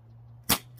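A cheap BB gun fires a single sharp shot, a short loud crack that stands out against a steady low hum and a quiet background, with no talking.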